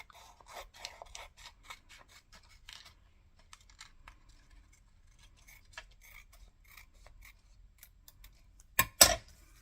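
Scissors snip through paper in quick, soft bursts while trimming a papercraft piece for a mini Christmas album, close and quiet, ending with a couple of louder cuts.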